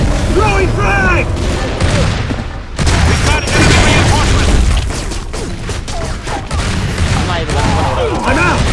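A frag grenade is thrown and explodes during a team deathmatch in Gears of War 3 on the Gridlock map, among dense, loud gunfire and booms with voices talking over the action.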